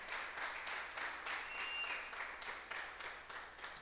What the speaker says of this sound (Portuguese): por favor, dê um aplauso em nome de Jesus